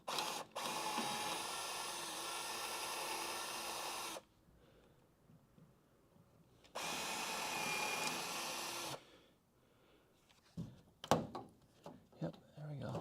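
A drill bores out rivets in the body of a crew cab Charger car: two sustained, loud, whining drilling bursts with a quiet gap between, then scattered clanks and handling knocks.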